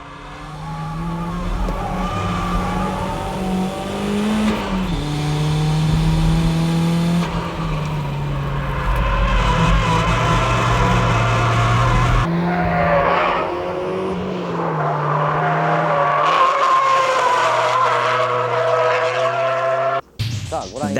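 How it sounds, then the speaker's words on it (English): Toyota MR2 drifting on a track with oversteer, its engine revving and falling while the tires squeal and skid in long sustained bursts, loud and close, with a voice speaking over parts of it. "That's how you drift with oversteer cars like the MR2."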